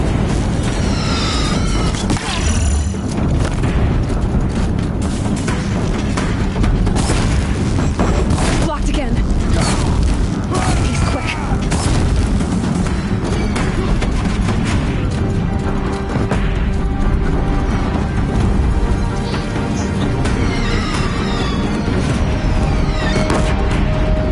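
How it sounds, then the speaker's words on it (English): Deathbringer war machines in Horizon Zero Dawn blast away nonstop, booming explosions and rapid heavy fire crashing over each other loudly for the whole stretch, with voices mixed into the chaos. "If the Deathbringers keep firing, this bridge will go."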